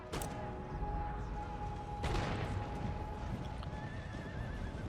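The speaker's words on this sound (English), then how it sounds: "Got more horse coming in." Cavalry horses neigh and gallop in battle in Empire Total War, with a loud whinny at the start and another near two seconds over steady thudding hooves, all busy and close with no talk.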